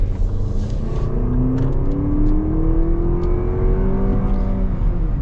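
A Lexus TX 350 SUV with a four-cylinder engine accelerates hard, its steady rising engine note climbing smoothly in pitch over a low road rumble, close and continuous with no talk.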